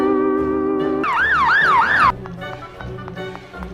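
A police siren sound effect wails loudly and close, a rapid rising-and-falling yelp that cuts in over a steady tone, then stops abruptly after about a second.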